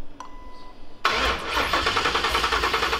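A Ford 7.3L Godzilla V8 swapped into a Fox Body car cranks briefly after a faint beep, then catches and settles into a loud, close, lumpy idle with a steady pulsing rhythm.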